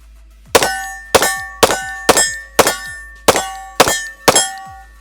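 SIG M18 pistol slide repeatedly snapping forward, eight sharp metallic clangs at roughly even intervals, each ringing briefly before the next, close and loud with no voices.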